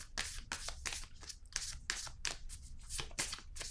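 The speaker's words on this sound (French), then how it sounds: "Je vais piger une carte pour cette zone." A playing card taken from a deck during a tarot-style reading, a run of quick crisp riffling and flicking card sounds in close succession, fairly quiet and close, no talking.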